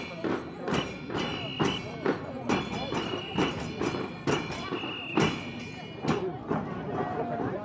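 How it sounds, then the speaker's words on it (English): Horses and their riders at the rear of a regional parade, hooves clip-clopping in a steady, fairly close rhythm of sharp strikes over a busy crowd and street background. "Bringing up the rear of the parade, the stars of the day, the horses and their riders."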